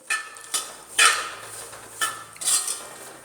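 Dry scraping and clinking of a spoon stirring coconut in a pan, in a few separate bursts with quiet gaps between them.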